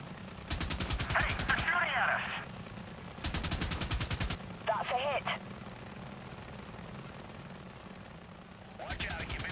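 Enemy gunfire aimed at an attack helicopter in the Apache Air Assault video game: bursts of rapid shots in several clusters, loud and close, with talk and radio chatter between them over a steady rotor drone.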